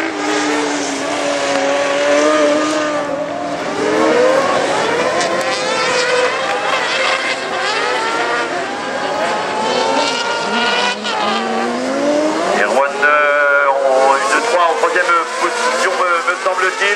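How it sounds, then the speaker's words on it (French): A racing kart engine accelerates during a qualifying heat at the Mauron kart track, its loud, buzzing whine rising and falling as it passes close by under continuous commentary. "maintenant il accélère de nouveau pour prendre la tête de course"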